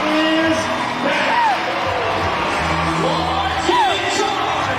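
Rodeo crowd cheering a bull rider at a professional bull riding event, a broad roar of whoops and yells from the arena under an announcer's voice.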